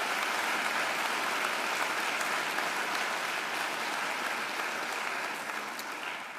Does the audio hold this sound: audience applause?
yes